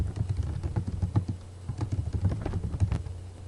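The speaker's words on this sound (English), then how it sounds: "I'm kind of typing in your ear" Typing on a computer keyboard close to the microphone, a steady run of quick, light clicking keystrokes with brief pauses, heard alone without speech.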